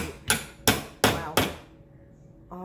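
Hammer blows while a curtain rod is being hung: four loud, close, evenly spaced strikes with sharp attacks and short ringing decay, followed by a faint brief knock.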